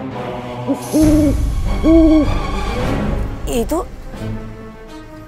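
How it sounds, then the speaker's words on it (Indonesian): A low owl hoot sounds twice in steady, rounded calls, fairly near, while a person speaks briefly over the background. "Kayak burung hantu."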